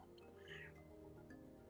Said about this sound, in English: And the cat has something to say about that